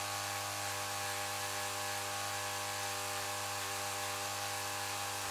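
A small pump runs during forced carbonation of barley wine beer, giving a steady, even motor hum with a constant tone, faint and unbroken, with no voices.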